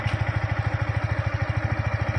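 A motorcycle engine idles steadily after starting, a fast, even low thump that runs throughout, close and fairly loud, with no voices.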